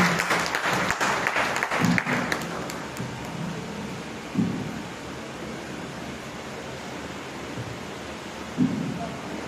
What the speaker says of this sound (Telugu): అందరం చప్పట్లతో మరి అక్కడి ముందుకు ఆహ్వానిస్తున్నాను